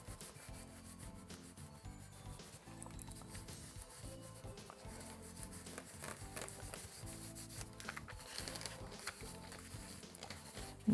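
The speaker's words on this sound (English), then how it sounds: "You can also use a cloth and just gently rubbing." A cloth gently rubs ink off a Tetra Pak intaglio printing plate, making a continuous close, soft scrubbing rasp with uneven back-and-forth strokes.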